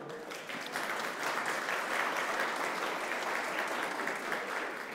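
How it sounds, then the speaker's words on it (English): A worship service congregation applauds in a dense, sustained wash of many hands clapping, steady and moderately loud throughout, with no talk over it. "You get applause just for that at things like this."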